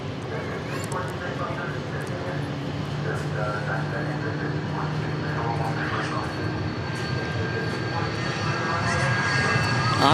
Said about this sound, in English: Next departure is going to Atlanta Peachtree Airport, and it's a Citation Sovereign.